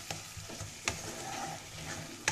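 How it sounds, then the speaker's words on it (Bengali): Masala paste of tomato and chilli, without turmeric, sautéing in a pan for rui fish curry: a soft, steady sizzle punctuated by a few sharp spatula knocks and scrapes, nearby and without talk. "খুব ভালো করে মশলাটাকে কষিয়ে নিতে হবে"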